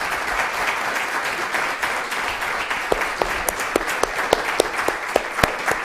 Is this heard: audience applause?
yes